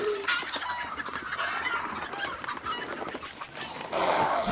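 Chickens clucking in the Hunt: Showdown video game, a run of loud, close squawking and clucking calls that repeat throughout, with a sharper burst near the end over steady game ambience.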